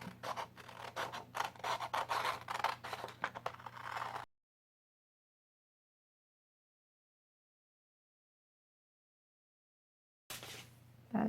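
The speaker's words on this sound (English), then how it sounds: "So then we're going to cut out along our template." Scissors cut a paper template for a farmhouse decor craft, a faint close scratching and snipping for a few seconds, then silence, with a brief return of scraping at the end.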